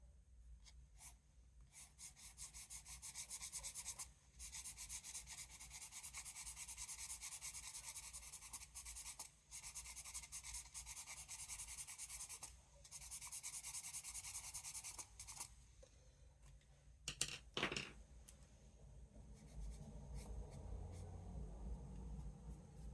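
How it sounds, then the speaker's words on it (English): A pastel pencil shades on paper with soft, steady scratchy rubbing strokes, close and quiet, in long continuous passes broken by brief pauses, ending in a few quicker scribbles. "Let's add some shading with a pastel pencil."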